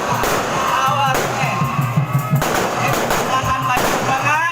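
A long string of firecrackers goes off during a Betawi ondel-ondel street parade in Cakung, a loud rapid crackle of sharp bangs over crowd noise and voices.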